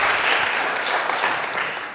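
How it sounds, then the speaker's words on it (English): A live audience at a magic show at an art gallery applauds, with steady, dense clapping filling the whole short stretch at moderate volume. "Give a round of applause."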